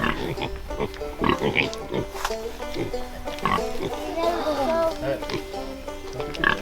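A pig grunts and snorts repeatedly in short uneven bursts close by, while people talk over the animal noises throughout.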